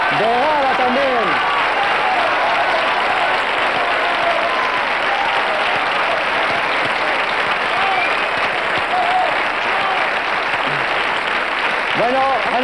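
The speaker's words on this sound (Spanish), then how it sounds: "Bueno, recibir la ovación." A television studio audience gives a sustained ovation of applause and cheering on a mid-1990s Spanish game show, loud and continuous throughout, with a host's voice calling out over it at moments.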